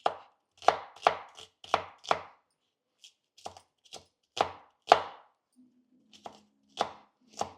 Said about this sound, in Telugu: ఇట్లా చిన్నగా కట్ చేసుకున్నాం